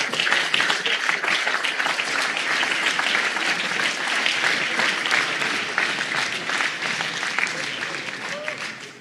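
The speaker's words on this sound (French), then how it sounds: "On peut encore les applaudir une dernière fois" A New Year's reception audience applauds steadily for about nine seconds, a dense roomful of clapping held at an even level before tapering slightly at the end.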